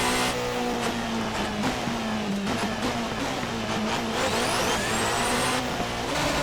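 A race car in Assetto Corsa on the Nordschleife engine-brakes with no brakes available, its engine note dropping and wavering loudly and continuously, with a tyre squeal rising near the end and no talking.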